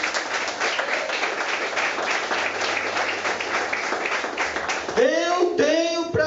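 A church congregation applauds steadily as dense, loud clapping that fills the space, while a preacher's voice rises over it near the end.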